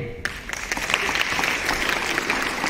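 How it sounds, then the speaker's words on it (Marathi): Applause from an audience at a school event on the constitution, a steady wash of many hands clapping that swells in just after a brief quiet start and holds loud and even throughout. "की टाळ्या वाजवायला पाहिजे।"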